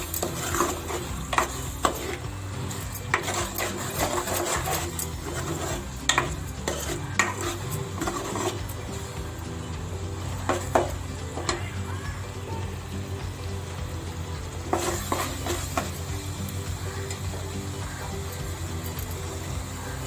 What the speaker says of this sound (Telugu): ఇలా 1 మినిట్కి ఒకసారి కలుపుతూ ఉండాలండి.